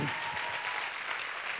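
Church congregation applauding, a short burst of steady, moderately distant clapping with no voices standing out.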